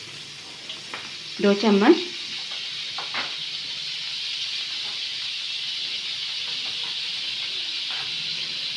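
Chicken frying in butter in a pan, a steady sizzling hiss that holds constant after a short spoken moment near the start.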